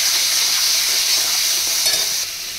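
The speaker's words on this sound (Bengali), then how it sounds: "এবারে দিয়ে দেব চিংড়ি, আদা রসুনের পেস্ট। এটা ভালো করে কষিয়ে নেব।" Prawns with ginger-garlic paste sauté in a pan after fried onions, giving a loud continuous hiss and sizzle that eases slightly near the end, with no talk.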